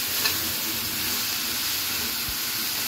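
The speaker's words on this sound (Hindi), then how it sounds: "बस 2 मिनट हमें भूनना है" Green peas roast in a pan with gram flour and spices, giving a steady, even sizzle and frying hiss with a faint stirring scrape, close and continuous with no talking.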